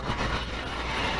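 A SpaceX Starship rocket engine static fire in December 2021 gives a loud, steady broadband roar that fills the whole moment with no breaks.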